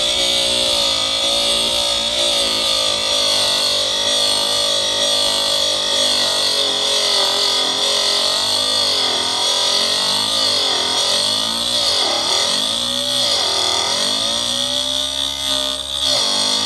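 A Scheppach DBS800 80-watt drill bit sharpener for metal bits runs steadily and loudly, a constant high motor whine with grinding that shifts in pitch as a bit is worked against the stone, with no talk.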